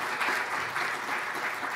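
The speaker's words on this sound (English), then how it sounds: "Let's give him a round of applause." A conference audience claps for a governor after a keynote conversation, a steady, dense wash of applause from a crowd in a hall with no talking over it.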